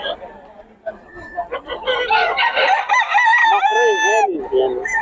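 Roosters crow at a busy chicken market in San Fernando, Pampanga, one long loud crow rising over clucking and background chatter, with people talking nearby.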